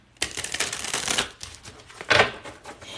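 A deck of playing cards is riffled and shuffled up close, a long crisp burst of flicking cards followed by a shorter second riffle.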